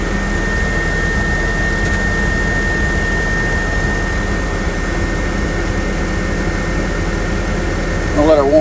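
A Caterpillar D6T bulldozer idles while warming up, a steady, loud, close engine drone with a faint whine that stays even throughout; a voice is briefly heard near the end.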